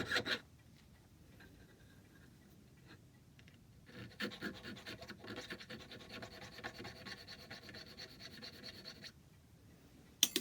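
A needle file works a mortise for a brass lock plate on an antique clock lock, its soft rasping strokes faint at first, then a quick run of scratchy filing, all close and quiet.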